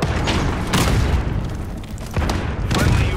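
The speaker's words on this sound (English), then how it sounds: "Allied cruise missile." A cruise missile strike in the Modern Warfare video game lands as a heavy, rumbling boom, with further dull blasts and gunfire thudding through a loud, continuous battle din.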